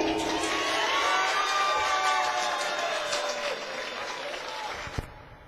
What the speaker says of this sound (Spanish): Aplausos para Miguel.